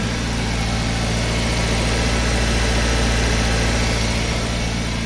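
A Toyota Altis with a 1.6 engine idles close up, a loud, steady, smooth hum with an even low throb and no stumbles, with no one talking.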